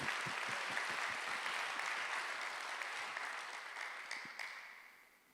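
A church congregation at a Sunday worship service applauds together, a close, dense burst of clapping with rhythmic beats that gradually thins and fades out toward the end.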